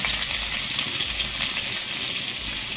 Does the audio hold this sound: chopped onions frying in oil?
yes